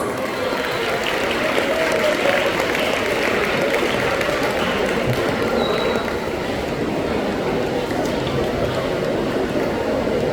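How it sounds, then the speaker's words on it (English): Sustained crowd applause at a school arts fest closing ceremony as a house team is honoured, a dense, steady wash of clapping filling the hall throughout. "Please give them a big round of applause for them."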